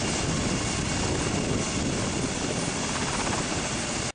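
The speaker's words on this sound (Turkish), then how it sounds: "Sağlık Bakanlığı'na bağlı helikopter ambulans, Bodrum İlçe Jandarma Komutanlığı'na ait helikopter pistine indi." Ambulance helicopter of the health ministry landing on a gendarmerie helipad in Bodrum, a loud, steady, close rotor roar with engine whine filling the whole stretch, no talk.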